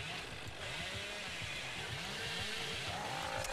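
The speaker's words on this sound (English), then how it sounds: "he's really eager for the chainsaw" Chainsaw revving from the killer in the Dead by Daylight video game, a steady, buzzing engine drone with regular pulsing oscillations, continuous and loud throughout.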